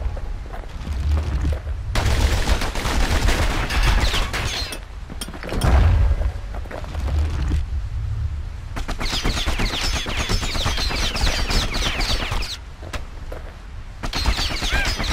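Fast, steady gunfire from the Kid's pair of guns in the action game Bastion, rattling in long rapid strings with short pauses between them, along with occasional heavier booms under the shooting.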